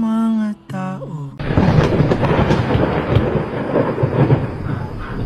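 Thunderstorm sound effect for a Grade 8 school play: a dense, loud roar of rain and rumbling thunder swells in suddenly after a brief tonal passage and holds steady to the end.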